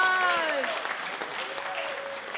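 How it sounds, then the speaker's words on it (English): Applause from an audience at a Pride gala, moderate and continuous, with a voice speaking briefly over the clapping at the start. "let's give Lorna another round of applause"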